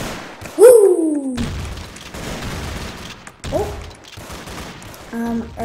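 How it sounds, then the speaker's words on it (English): Shotgun blasts in a Roblox zombie survival video game land as a loud close boom near the start, with a quieter shot later, amid game effects and a voice in the background. "Shotgun now, yeah. Got a shotgun."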